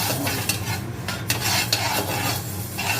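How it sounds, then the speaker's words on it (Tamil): Fenugreek seeds, about fifty grams, dry-roasting in a pan for homemade garlic pickle, with a steady scraping stir and light sizzle, punctuated by a few sharper clinks of the spoon against the pan, close and continuous. "ஐம்பது கிராம் வெந்தயம் இது நல்லா செவக்க வறுக்கணும்"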